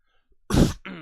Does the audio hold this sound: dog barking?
no